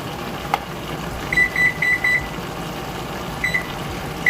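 A kitchen timer set for 25 minutes while cooking kale and okra rice with pigtail sounds a quick run of four short high beeps, then a brief pause and two more beeps, against low background noise.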